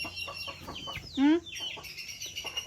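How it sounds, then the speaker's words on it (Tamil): Village chickens and chicks in Sri Lanka, with a hen's nearby clucks and a brief loud squawk mixed with thin peeping chick chirps, while people talk faintly in the background. "நண்பர்களே கோழி குஞ்சு பார்த்தீங்களா? கோழி கோழி"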